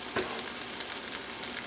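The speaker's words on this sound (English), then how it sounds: "I'm going to add the fresh minced garlic." Freshly minced garlic sizzles and crackles steadily in a hot pan for a vegan lentil stew, a close, even frying hiss with no talk.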